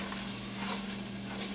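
Shrimp risotto sizzles in a pan while a spoon stirs it, a close, steady frying hiss with a low hum beneath and no talk.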